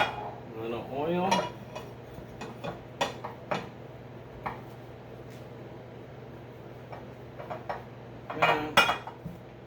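Metal baking pans for zucchini bread clatter and clink as they are handled and greased with oil, with irregular close knocks and scrapes spread throughout, louder bursts at the start and end, and no speech.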